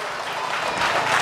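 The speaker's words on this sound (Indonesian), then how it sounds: "Kasih sekali lagi tepuk tangan untuk Rio" A brief burst of crowd applause rises from the congregation at an Islamic religious lecture, honouring a young man named Rio. It is a short, dense wash of clapping that swells slightly toward the end.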